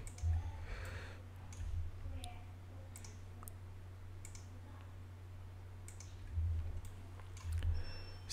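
Faint, scattered clicks of a computer mouse while modelling in Maya, sparse and quiet over a steady low electrical hum.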